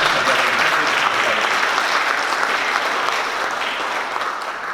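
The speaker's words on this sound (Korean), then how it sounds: "뜨거운 박수로" Hearty applause from a forum audience welcoming a government minister to the stage, a dense, sustained wash of clapping close by that tapers off slightly toward the end.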